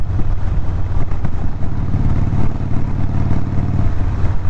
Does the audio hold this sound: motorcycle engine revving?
yes